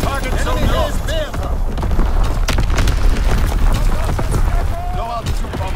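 Repeated heavy booms from an in-game artillery strike in an online shooter, loud and close, layered with a dense barrage of impacts and battle noise.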